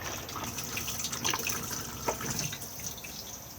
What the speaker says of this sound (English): Push to flush just here.